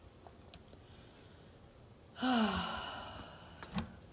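A long audible exhale through the nose during alternate nostril breathing, a breathy sigh that starts strong and slowly tapers over about two seconds, close to the microphone in a quiet room.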